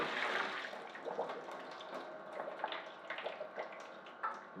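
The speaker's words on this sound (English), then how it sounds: "now we're going to drain the pasta completely" Pasta water being drained from a pot into a sink, a steady, soft pour with splashing and dripping heard fairly close, with no talking over it.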